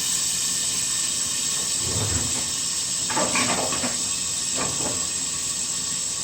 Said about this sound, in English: I'm gonna put the liver in.